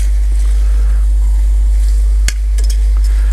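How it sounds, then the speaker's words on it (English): Mie goreng noodles being stirred in a hot pan for Indonesian fried noodles, a steady close sizzle with scraping stir strokes and a sharp utensil knock near the end, no talking. "Now all you need to do is literally stir this around."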